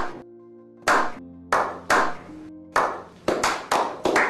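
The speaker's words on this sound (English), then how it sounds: "deserves a round of applause" Short bursts of hand clapping from a small group, each sharp flurry fading quickly, arriving in separated rounds of applause with quiet gaps between them.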